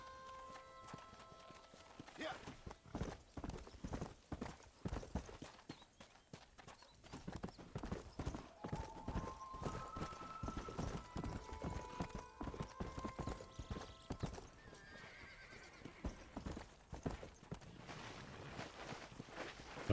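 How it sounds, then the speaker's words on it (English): A war horse walks in Red Dead Redemption, its hooves clip-clopping in a steady close rhythm, with light game sounds and someone talking over it. "¿Este es el caballo de guerra?"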